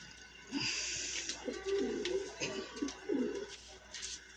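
Kalduma pigeons cooing at a seller's loft in Kolkata, several soft throaty coos in a repeating rhythm, fairly close, with faint background noise and no talk.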